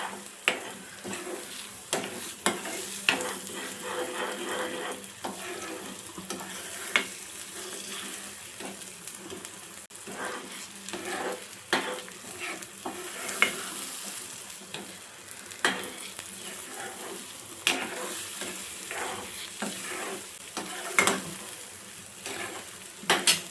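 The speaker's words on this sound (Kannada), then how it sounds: "ಇವಾಗ ನಾನು ಮಿಕ್ಸ್ ಮಾಡ್ಕೊತೀನಿ ಮಸಾಲೆ ಒಟ್ಟಿಗೆ" Masala for egg bhurji stirred in a frying pan with a spoon, steady sizzling and frying under repeated scraping and clinking strokes against the pan at an irregular rhythm, close and with no talking.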